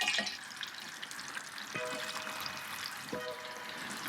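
Chicken gizzards fry in hot grease with a steady close sizzle, broken by a few sharp pops, one near the start and two more later on.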